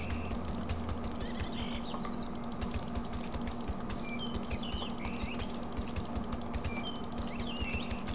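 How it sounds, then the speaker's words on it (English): Birds chirping and flapping their wings among trees in the city-building game SimCity 2013, scattered light tweets and flutters over a steady low ambient hum, with no talking. "And you get all these charming bird noises in the interim"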